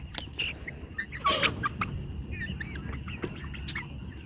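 Soft clucks and short calls from meat chicks and a rooster on pasture nearby, intermittent and fairly quiet over a faint background.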